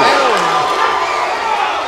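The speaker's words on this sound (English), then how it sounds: "And the crowd's getting into this." Boxing crowd at a Red Promotions bout between Nicholas Rubalcado and Kevin Perez, cheering and roaring in a loud, steady wash of shouts across the arena, with a ringside commentator's voice woven in.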